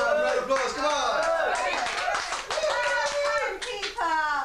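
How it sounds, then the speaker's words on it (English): Applause from an auditorium audience rings out as a continuous dense clatter of hands, mixed with shouts and children's voices throughout. "Round of applause, come on!"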